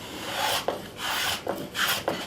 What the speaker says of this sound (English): So back to the sharpening stone on that.